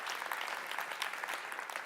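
A church congregation claps together, a dense, even patter of applause heard at moderate distance and held steady throughout.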